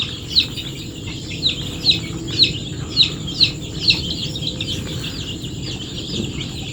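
Backyard chickens held for fowl pox vaccination give a series of short, evenly spaced clucks close by, about eight calls in a row, then quieten under low background noise.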